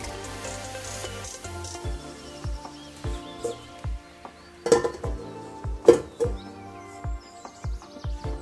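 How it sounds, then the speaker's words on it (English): A whisk beats egg whites with cream of tartar in a bowl for a pavlova. The metal taps against the bowl in a regular series of clinks that grow louder partway through. "Now I'm gonna whisk this into a soft peak."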